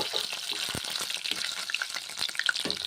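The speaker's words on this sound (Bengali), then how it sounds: "পনিরগুলো ভেজে নিচ্ছি" Paneer cubes fry in a pan with a steady crackling sizzle and small scattered pops, close and fairly quiet, with no voices.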